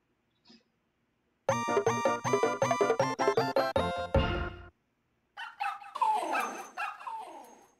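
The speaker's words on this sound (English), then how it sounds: "Fuck you, dog." In Super Mario Maker, a synthetic dog-bark sound effect rings out as a rapid, loud run of about a dozen bright yips, followed after a pause by a rougher, whining bark burst.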